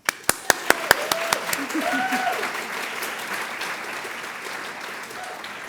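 Award ceremony audience applauding to welcome a speaker, beginning with a few loud sharp claps up close and swelling into steady, full crowd applause that gradually softens.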